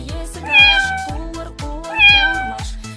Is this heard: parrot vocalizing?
no